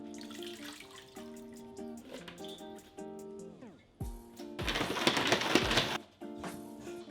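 Basil leaves get rinsed under a kitchen tap, with the water running in short bursts and one louder, longer gush in the middle, heard nearby against a faint background hum.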